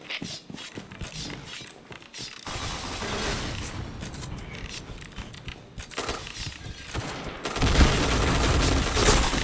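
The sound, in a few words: gunfire in the video game Point Blank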